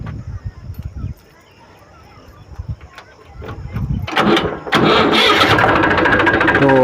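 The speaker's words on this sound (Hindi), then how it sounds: "और उसके बाद फिर से हम ट्रैक्टर को स्टार्ट करेंगे।" A few sputtering cranks and clunks, then an Eicher 380 tractor engine catches and settles into a loud, steady chugging idle close by.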